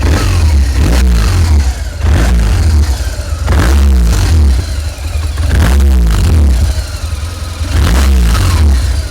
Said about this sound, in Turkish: 1200 GS'imizin Boxer motorumuzun sesi bu.